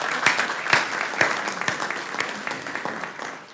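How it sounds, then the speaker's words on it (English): An audience applauds at a courtroom ceremony opening the legal year, with a few sharp claps standing out over a thinner patter of clapping that fades away toward the end. "We really should have applause."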